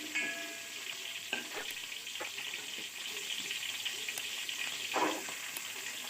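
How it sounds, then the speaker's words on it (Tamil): Onions and green chillies fry in a pan with a steady, busy sizzle, broken now and then by the scrape and clack of stirring. "நல்லா வெங்காயத்தை கிளறி விடுறோம். கோல்டன் ப்ரௌன் கலர் வர வரைக்கும் கிளறணும்."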